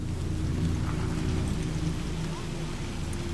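Steady, dense rain falls in a Cyberpunk 2077 city scene, a continuous broadband hiss with a low rumbling undertone, moderately quiet and without a break.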